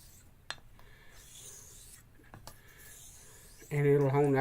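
A straight razor blade scrapes in soft strokes across a hone, faint and close, before a voice starts talking at the end.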